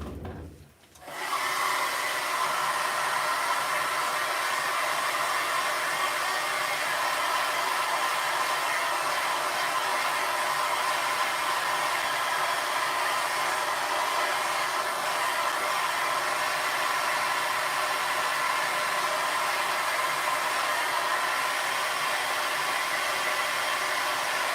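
A hair dryer blows on a wet watercolour painting of ohia lehua flowers. It switches on with a short rush, then gives a steady, loud, close whirring hum that holds for over twenty seconds.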